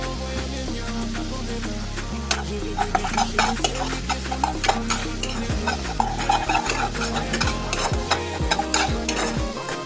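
Ginger and garlic paste fry in a pan over a high gas flame, sizzling under constant brisk scraping and clanking of a spatula against the metal, close up and without any voices.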